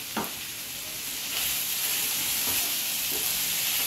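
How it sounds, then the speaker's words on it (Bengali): Ground spices stir-frying in a little oil for Bengali mutton kosha, with a steady close sizzle and hiss and a few scraping stirs of the pan throughout. "মশলা কিন্তু সুন্দর করে কষানো হচ্ছে।"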